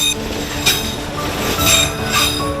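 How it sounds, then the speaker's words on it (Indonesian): A train rushes past at high speed right beside market stalls, a loud continuous rumble with metallic wheel clatter and squealing throughout the short burst. "barang dagangan hancur tersambar kereta yang melintas dengan kecepatan tinggi"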